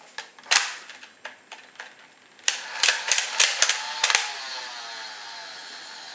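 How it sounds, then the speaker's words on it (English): Sharp clicks and snaps of a foam dart being pushed into a simple Nerf gun, a few isolated clicks followed by a quicker cluster of close, crisp mechanical clacks, with no talk. "So let's push a bullet in."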